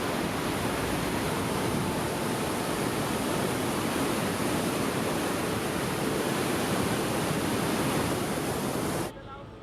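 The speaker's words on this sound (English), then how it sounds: "Here, amongst the subtropical rainforest, is one of South America's prime tourist destinations, the majestic Iguaçu waterfalls." Iguaçu waterfalls in subtropical rainforest on the Brazil–Argentina border roaring as a steady, dense, loud wash of falling water that holds constant throughout, then dips slightly at the very end.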